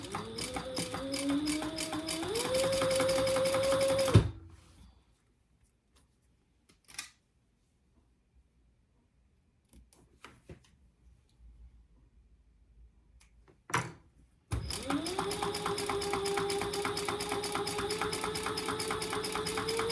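A sewing machine runs in two close passes, its motor whining and rising in pitch as it speeds up, separated by a long near-silent pause with a few small clicks.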